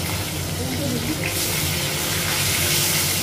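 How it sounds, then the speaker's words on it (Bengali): Fish coated with turmeric frying in hot oil in a home kitchen, a steady dense sizzle running continuously and fairly loud, with background voices and faint kitchen noise mixed in. "মাছটা ভাজা হয়ে গেছে।"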